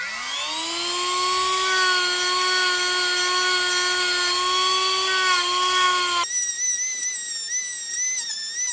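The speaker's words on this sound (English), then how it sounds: "So all I do is I get my Dremel with a wire wheel." A Dremel rotary tool fitted with a wire wheel spins up to a loud, steady high whine while cleaning the contacts of a BMW headlight switch, then the pitch suddenly shifts and wavers as the wheel bites into the metal.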